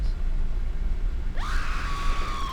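A shrill scream bursts in partway through, rising sharply then holding a long wavering high note over steady background noise, in a haunted house setting.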